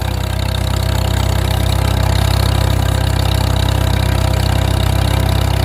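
A Farmall M tractor pulling an International 510 grain drill in fourth gear, its engine putting along with a loud, steady low throb, close and continuous without any talk.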